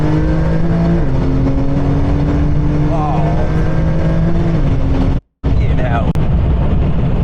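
A heavily tuned twin-turbo Porsche 992 accelerates hard in fourth gear with traction control off, its loud engine note climbing through a shift and a brief dropout, while occupants talk over it.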